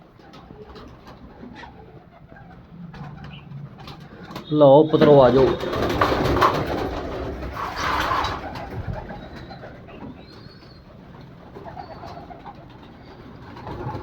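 Pigeons coo close by while a man calls out to them as grain is put out at feeding time, with fluttering and shuffling in the middle.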